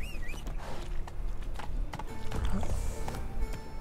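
Horse hoofbeats walking in The Witcher 3: Wild Hunt, a steady clip-clop rhythm of hooves close by, with a brief whinny-like tone at the start and faint talk underneath.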